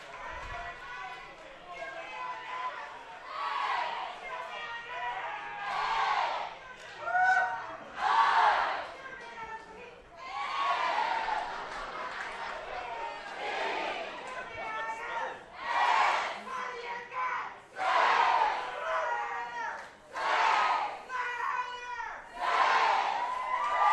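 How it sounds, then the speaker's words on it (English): A fired-up home crowd at a Santa Fe Saints college baseball championship game shouts and cheers loudly in repeated surging bursts of many overlapping voices, with yelling that swells and fades. "The Santa Fe Saints crowd is fired up and loud."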